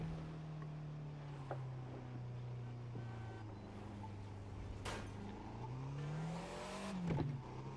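A Fiat 500 Abarth in The Crew 2 racing game drones at a steady engine pitch, rising and falling slightly as it shifts, with wind rush and a few sharp clicks over the run.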